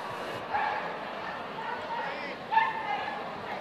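Dog at an agility run yipping and barking in short excited bursts amid crowd noise and a commentator's voice.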